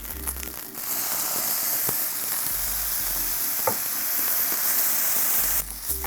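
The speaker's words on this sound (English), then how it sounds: "I think it's really yummy sometimes to add a little bit of soy sauce and it kind of like cooks and glazes on the onigiri" Onigiri frying in hot oil with a soy sauce glaze, a loud continuous sizzle and crackle held close throughout, with a few brief knocks of a utensil in the pan.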